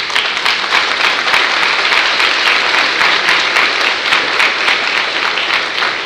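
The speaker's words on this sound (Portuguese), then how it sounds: "Aplauda o Senhor." A church congregation claps loudly and steadily during a worship service, dense, continuous applause filling the room throughout.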